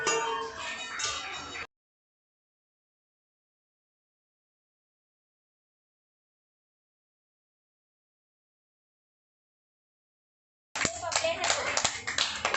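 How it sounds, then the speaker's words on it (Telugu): Colony residents clapping outdoors together to thank doctors and sanitation workers during the Janata curfew, a dense crowd of hand claps with scattered voices and children, cut off abruptly for a long silent gap before clapping resumes. "5 కాగానే మేమందరం బయటకు వెళ్ళేసి మా కాలనీ వాళ్ళు కూడా అందరు చప్పట్లు కొట్టారండి"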